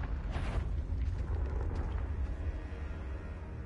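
A booming, rumbling blast from the Confringo explosion spell in a Harry Potter video game, a sustained low roar with crackling bursts that carries on steadily throughout.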